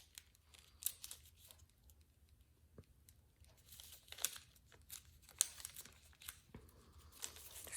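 Paper being folded and creased for an origami F-35 Lightning II, with faint crinkling and sharp crisp creasing rustles at close range in a quiet room.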